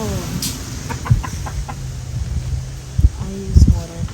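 Backyard chickens clucking in a garden, with short soft calls scattered over a few seconds and a louder cluster near the end, against faint outdoor background.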